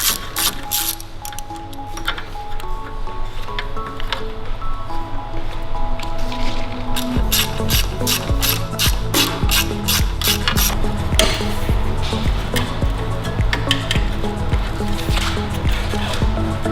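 A ratchet undoing M6 bolts that hold the intercooler to the radiator on a Land Rover Defender, starting with low mechanical rattling, then loud, rapid clicking bursts in quick runs, close up.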